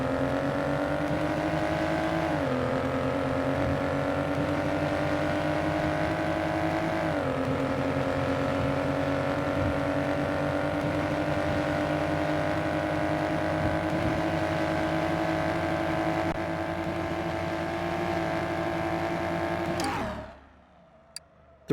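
A McLaren race car in a driving sim mod holds a loud, steady engine drone with throttle blips near 2.5 and 7 seconds, running continuously for about twenty seconds before cutting off abruptly.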